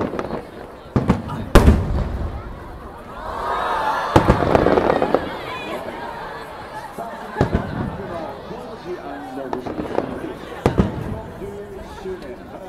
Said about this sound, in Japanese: 花火に感謝、花火に乾杯。